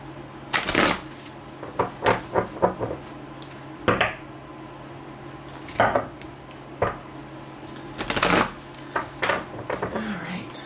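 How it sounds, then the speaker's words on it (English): A deck of cards is shuffled for a card reading. Several separate riffling bursts come close and crisp over a quiet room, with short pauses between them. "Let's cut the cards."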